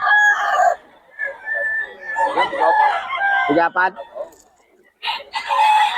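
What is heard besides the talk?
chickens and roosters crowing at market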